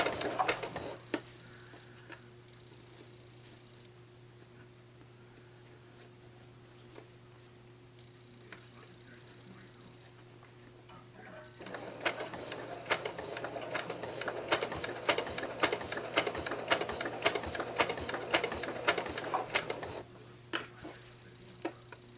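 A sewing machine stitches along the edge of a quilted fabric potholder, running in a steady rapid mechanical rattle for several seconds after a quieter stretch of low hum and small handling sounds.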